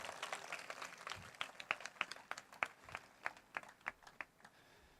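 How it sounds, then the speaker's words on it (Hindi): A church congregation applauds, starting in a dense patter that thins into sparse, separate claps, each louder and sharper, trailing off near the end. "और जोर से ताली बजा के प्रभु को धन्यवाद दे।"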